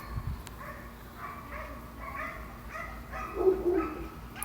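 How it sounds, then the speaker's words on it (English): Dogs barking at a distance outdoors, a few short yips and barks scattered through the clip over steady background noise, with one louder bark near the end. "Dogs are barking."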